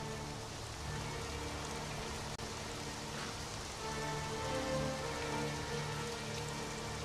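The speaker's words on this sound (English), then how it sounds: "Drink the rain." Rain falls in the survival game Conan Exiles, a steady, even patter of drops with faint ambient tones underneath, continuous and without speech.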